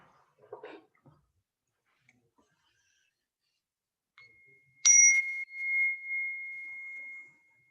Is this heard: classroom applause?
no